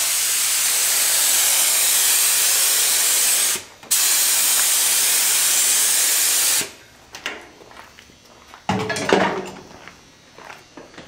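A 1/8 spray gun lays K2 Brew coating onto a Kryptek-patterned surface in two long, loud, continuous hissing bursts split by a brief pause, followed by quieter handling clatter.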